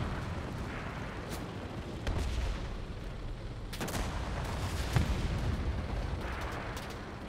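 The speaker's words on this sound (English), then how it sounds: "You know that's a tank, right?" Tank cannon fire in the World War II shooter Enlisted, during a Normandy campaign battle: heavy booming blasts at irregular intervals over a constant rumble of battlefield noise.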